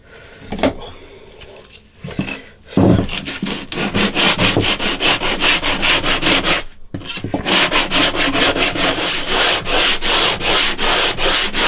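A wooden guitar fretboard is sanded by hand with a block in quick, rhythmic back-and-forth rasping strokes, close and loud, after a few brief knocks and pauses.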